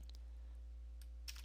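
Faint, sparse key clicks on a computer keyboard as a command is typed, with a small burst of taps near the end over a steady low hum.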